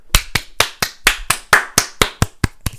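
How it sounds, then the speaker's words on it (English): About a dozen loud, sharp hand claps in an even rhythm, close up and isolated, each crack separated by brief silence, from a host on a talk show celebrating a passed real estate exam. "Let's get a round of applause."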